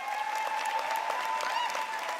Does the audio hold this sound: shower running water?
no